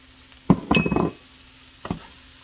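Rice toasting in a pot with onion and celery as it is stirred, giving a couple of scraping, clinking spoon strokes against the pot over a soft sizzle, close and moderately loud, with no talking.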